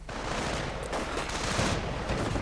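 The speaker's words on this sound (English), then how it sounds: "a few more armor autocannon hits definitely finish off things there" Armored autocannon fire rakes targets during a battle in a real-time strategy video game, heard as a dense, continuous, loud barrage of rapid impacts and blasts with no gaps.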